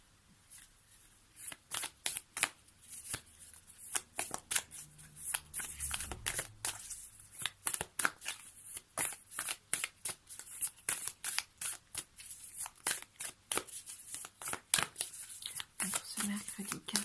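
Oracle cards for a daily reading, including a lunology oracle deck, shuffled in repeated papery flicking bursts that run steadily throughout, quiet and close, with someone speaking softly at times.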